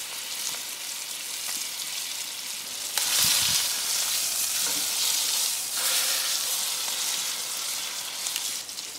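Garlic and batter frying in a hot pan: a steady close hiss and crackle of sizzling fills the whole stretch, swelling louder a few times as the food is moved, with no talking.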